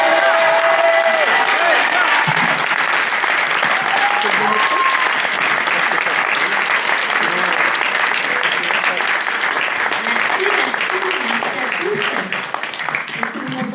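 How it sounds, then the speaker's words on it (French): Sustained, loud applause from a large crowd at a municipal election campaign rally, steady throughout, with a few voices and whistles rising above the clapping. "Applaudissez bien fort."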